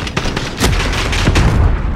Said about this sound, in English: Ooh, it's an automatic shotgun.